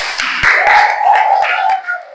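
Brief hand clapping from a class audience at the close of an automotive body electrical systems lesson, a couple of seconds of scattered claps blended with a sustained tonal voice-like sound.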